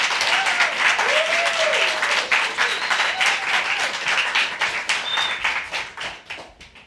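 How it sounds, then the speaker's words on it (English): An audience at Beyond Baroque applauds a poet taking the stage for a poetry reading: a full room of close, steady clapping with a few whoops, tapering off toward the end. "please welcome her with a big round of applause"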